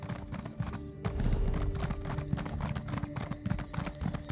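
Horse hooves clip-clop in a steady, brisk rhythm in the video game Elder Scrolls Online, close and clear, with a busy low background underneath and no voices.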